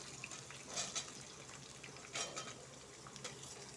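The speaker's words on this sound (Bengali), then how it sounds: "তেলটার মধ্যে পেঁয়াজটা ছেড়ে দেবো পেঁয়াজ পেঁয়াজ ছেড়ে দেবো তেলের মধ্যে" Onion frying in hot oil for a chicken dish, a faint, steady sizzle broken by a few soft stirring scrapes and utensil clinks.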